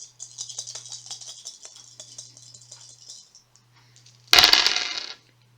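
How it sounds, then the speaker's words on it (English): Five dice rolled in a Shadows of Brimstone board game session land with a sudden bright clattering rattle near the end, after a stretch of soft tapping and handling noises with a low steady hum underneath. "So he rolls 5 dice, and we're going to look out for 1s and 2s."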